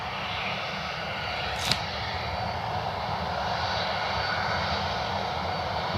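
A United airliner bound for Denver runs its jet engines at Cleveland Hopkins airport, a steady, moderately distant roar that stays even throughout.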